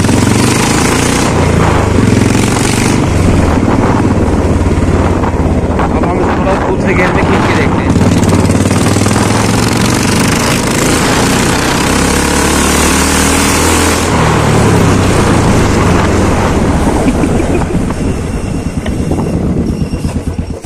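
A Royal Enfield Classic 350 motorcycle with the silencer removed runs loud and close, its raw engine thumping and roaring continuously for about twenty seconds with heavy wind buffeting and some voices underneath.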